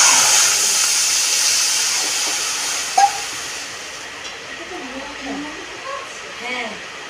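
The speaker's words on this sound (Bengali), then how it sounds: "কড়াইয়ের মধ্যে জল দিয়ে দেবো।" Water hits a hot wok with a loud hissing sizzle that slowly fades and steams down, a brief pop partway through, while a voice speaks softly in the background.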